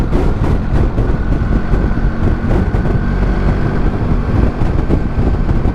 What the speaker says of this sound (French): là elle est en 6ème et elle tricote gentiment